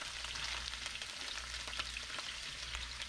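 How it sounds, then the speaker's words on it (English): Carrot pieces frying in a pan for a satay vegetable dish give a steady, close crackling sizzle that runs unbroken throughout, with no talking. "I'm gonna fry my carrot first. Fry it for about a minute"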